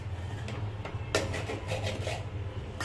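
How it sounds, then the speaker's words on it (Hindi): Sabudana khichdi with boiled potatoes stirred in a pan, a steady scraping and rubbing of a spoon against the pan with a few louder scrapes, close and continuous, with no talk. "एक बार अच्छे से मिक्स कर लेता हूँ"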